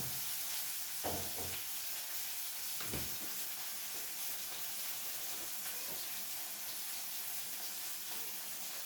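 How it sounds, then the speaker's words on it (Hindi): Curry leaves and green chillies dropped into hot oil in a pan, giving a faint, steady hiss and sizzle with a couple of soft knocks early on, quiet and close, no voices. "फिर डाल देती हूँ कड़ी पत्ते और हरी मिर्च"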